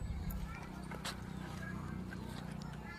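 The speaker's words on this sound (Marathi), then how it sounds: "बैल बघ किती पळतोय तो दुसरा पण पळतोय बघ" Bullocks' hooves clatter in a quick running rhythm at moderate distance, under faint voices and outdoor farm background noise.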